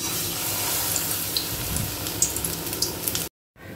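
Food fries in a hot pan at home, a steady close sizzle with scattered pops and crackles, cutting out briefly near the end before resuming quieter.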